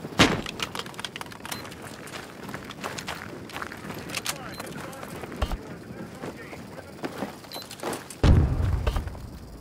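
A grenade detonates in Battlefield 2042 with a deep, rumbling boom near the end, following stretches of running footsteps, scattered gunfire and someone talking.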